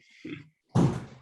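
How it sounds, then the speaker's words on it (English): A door pushed shut quickly indoors, a short soft scrape followed by a louder, fuller thud of it closing, both close by with no talking. "I'm just going to close this door very quickly."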